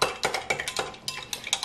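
Dried yeast being stirred into about 20 centilitres of lukewarm milk, a series of light, close clinks and scrapes of a utensil against a bowl repeating at an uneven rhythm, with no talking.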